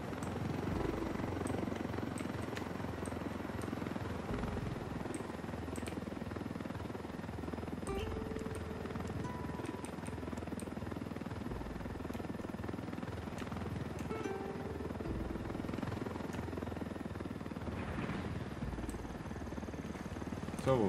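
A stolen helicopter in the video game Ghost Recon Wildlands drones steadily with a continuous rotor and engine hum, filling the background evenly while a voice occasionally speaks over it.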